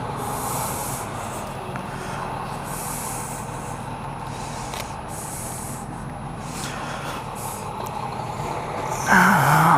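A big truck rolls past close by, a steady heavy rumble with hissing bursts like air brakes, swelling louder near the end.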